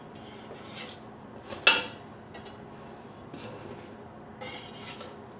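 Flatbreads made with soda water are flipped in a frying pan with a metal utensil, giving a few close scrapes and one sharp clink over a faint sizzle, with no talking.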